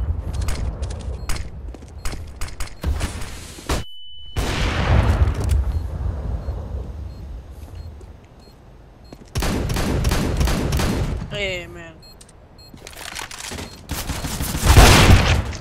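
Rapid gunfire bursts in the video game Counter-Strike: Global Offensive, loud clustered volleys of shots separated by brief pauses and other game sounds, with no one talking.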